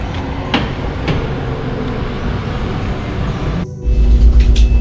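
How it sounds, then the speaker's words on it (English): Steady rumbling interior noise of a moving ICE high-speed train from Dresden to Wiesbaden, a constant low roar with occasional clicks, shifting to a louder, heavier rumble near the end. "this is our final train ride, the ice train to Wiesbaden from Dresden"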